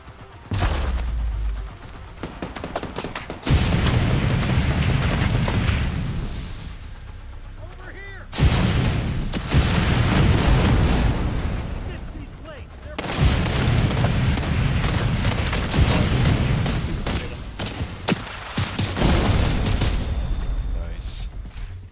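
Grenade explosions and gunfire in a shooting video game: several loud, long booming blasts with rumbling tails, broken by brief pauses and quick shot bursts, with voices talking over the action.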